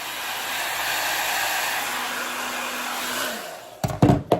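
A hair dryer blows steadily and loudly up close, drying hairspray on a lace wig, a continuous airy roar for several seconds before it shuts off amid a few handling bumps.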